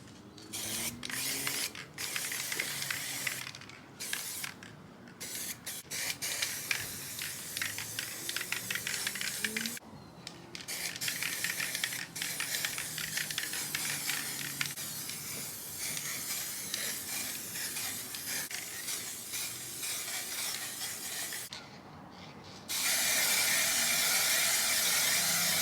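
Spray paint goes onto the primed floor of a VW Crafter van under conversion, a series of hissing bursts separated by short pauses, with clicks and rattles between sprays, fairly close, no talking.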